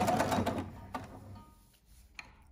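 A sewing machine stitches the shoulder seam of a coat in a short burst of rapid mechanical clatter that stops, followed by faint handling clicks, fairly close and quiet.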